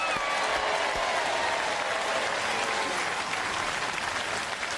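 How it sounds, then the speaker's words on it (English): An arena audience applauds the new Nickelodeon Robot Wars United States champion with a loud, dense and steady roar of clapping that holds throughout. "Give a big round of applause for that."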